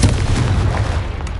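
A Confringo fire-blast spell goes off in a Harry Potter video game as a short, heavy explosive boom with a deep low rumble that stays loud and dense throughout.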